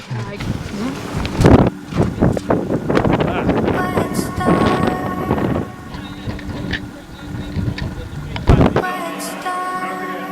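Strong wind at the Cliffs of Moher, Ireland, buffets the microphone in heavy gusts, roaring and rumbling almost continuously, with a person's voice briefly heard among the blasts.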